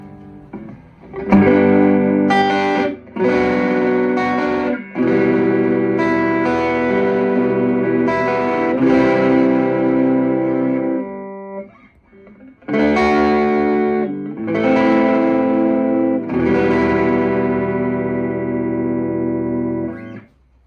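Electric guitar played through a 15-watt Stage Right tube amp on its distortion setting, with sustained crunchy chords and riffs, loud and close, pausing briefly midway.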